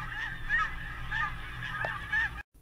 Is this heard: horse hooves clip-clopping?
no